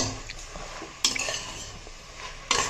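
Mint leaves sautéed in a pot, with a low rustling sizzle broken by two distinct spatula scrapes and clanks against the metal.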